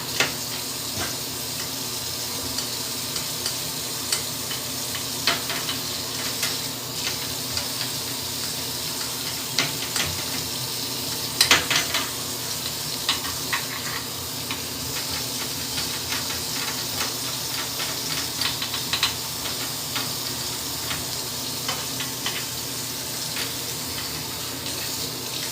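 A dog gets a final rinse during a bath, with water from a sprayer or tap running steadily and splashing, punctuated by occasional louder spatters over a long stretch.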